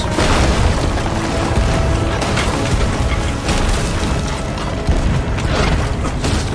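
Dense, booming blasts and rumbling crashes pile up continuously, like repeated ship cannon fire amid clattering mechanisms, loud and chaotic with no voices, in the video game Sea of Thieves.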